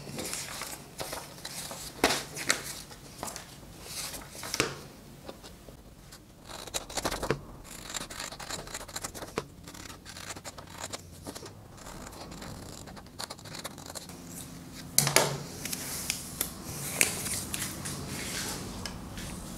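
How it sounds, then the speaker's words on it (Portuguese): Scissors cut out fabric mask patterns close by, a run of crisp snips and paper-like scrapes coming in uneven bursts with short pauses, no voices in between. "O resto é cortar tudo normal, do mesmo tamanho do molde, tá?"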